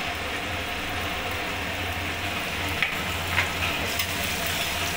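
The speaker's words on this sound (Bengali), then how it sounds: "তেলটা গরম হয়ে গেছে, আমি ফোড়নে কালো জিরে দিয়ে দেবো আর রসুন কুচিগুলো দিয়ে দেবো।" Black cumin and chopped garlic frying in hot oil, a continuous broad sizzle over a low steady hum, with a few faint clinks and stirs.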